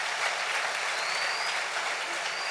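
A church congregation applauds during a Spanish-language sermon by an apostle, a steady, fairly faint wash of clapping that carries on evenly throughout without a clear start or end.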